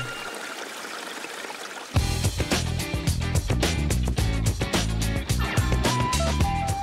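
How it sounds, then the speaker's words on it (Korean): Cool running water pours and splashes steadily, loud and close, starting abruptly after a quieter opening and continuing as a dense, unbroken rush. "화장실 가고 싶게 하는 소리의 정체는 시원한 물소리"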